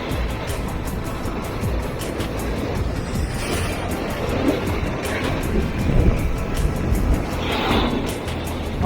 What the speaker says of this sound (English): Can't really get down there with those waves.